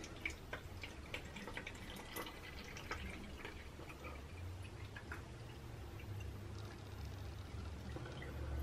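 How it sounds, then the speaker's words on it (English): Water is poured into a NeilMed sinus rinse bottle up to its fill line, making a faint, close trickling splash with scattered drips and small clinks. No one speaks. "open your bottle up, and we're going to fill up to this dotted line"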